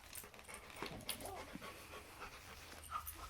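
A happy fluffy puppy pants in quick, soft, breathy bursts close by, steady and faint, with a light jingle near the end.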